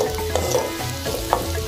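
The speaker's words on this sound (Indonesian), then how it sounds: "Aduk-aduk-aduk hingga merata." Shallots and vegetables fry in hot oil in a wok while being stirred, a steady close sizzle broken by a few scraping stirs, with no talking.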